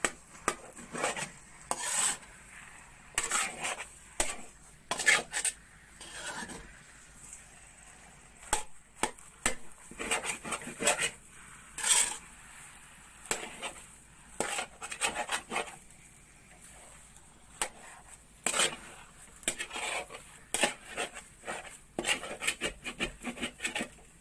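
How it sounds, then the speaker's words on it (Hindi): Dry fruits being stirred into thick jaggery makhandi halwa in a pan, giving repeated scraping and rubbing strokes of a spoon against the pan, steady and close throughout with no talking. "अब मेवे को मिक्स कर लेंगे।"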